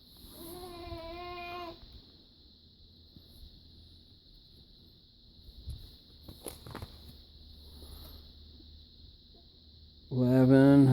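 A cat meows at the start with a drawn-out cry and again loudly at the end. A steady high insect-like whine runs throughout, with soft shuffling sounds in between.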